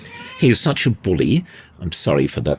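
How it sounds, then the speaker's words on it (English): House cat meowing while someone talks on a podcast, its meows blending in among and between his speech, close and fairly loud. "My cat clearly believes that he's a person and he likes to join in these things"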